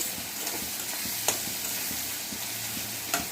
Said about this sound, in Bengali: জিরেটা ভেজে আমি বেটে নিয়েছি আবার একটু তেলের উপর দিয়ে দিলাম